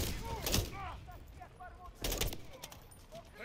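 Rapid gunfire bursts from Call of Duty: Modern Warfare 3 combat, loud sharp cracks in two clusters with voices talking between and over the shots.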